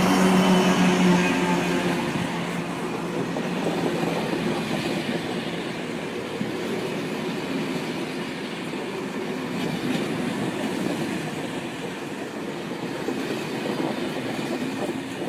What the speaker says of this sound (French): trains circulant sur des lignes de montagne, tous peuvent être remorqués par des BB 16500,